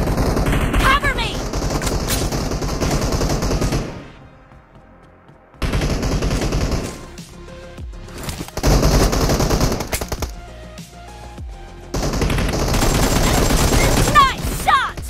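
AKM and M416 rifles fire in a video game, with rapid automatic bursts in several loud, close volleys separated by short quiet gaps.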